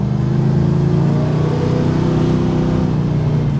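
Small-block Chevrolet V8 idling steadily in an Oldsmobile Cutlass build, a loud, close, continuous low rumble with a healthy, even tone and no talk over it.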